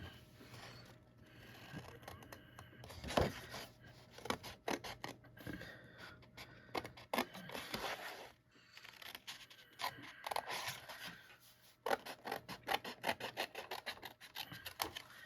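Scissors cutting paper for a paper pumpkin craft kit, quiet close snips and rustling rasps coming in irregular bursts with brief pauses between cuts.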